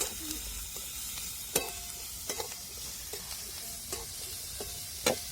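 Chopped onion fries in oil in a thin kadhai, a steady crackling sizzle broken by several sharp stirring scrapes and clinks of a spoon against the pan, close and moderately loud.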